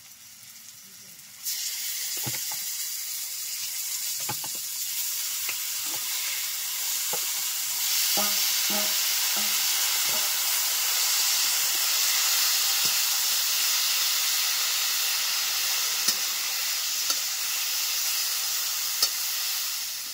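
Boiled taro leaves drop into a hot frying pan with garlic, setting off a loud, steady sizzle and hiss that persists for the whole stretch, punctuated by scattered clinks and scraping taps of stirring.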